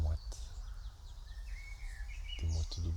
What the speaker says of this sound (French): Écoute, écoute les oiseaux qui chantent.